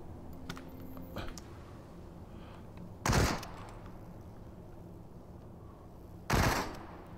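Gunshots in the video game Into The Radius, two sharp loud reports a few seconds apart, preceded by faint clicks over a quiet background.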